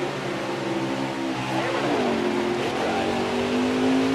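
A field of NASCAR stock cars in NASCAR Heat 4 at Daytona drones with a steady, loud engine roar, their pitch rising gradually as they accelerate together.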